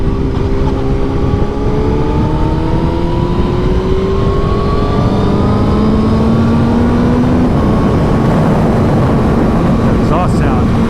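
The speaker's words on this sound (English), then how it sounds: "That exhaust sound," A 2023 Honda CBR1000RR-R Fireblade SP motorcycle exhaust accelerating hard, a loud continuous engine roar whose pitch climbs steadily through the gears over constant rushing wind.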